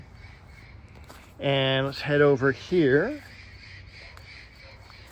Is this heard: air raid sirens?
no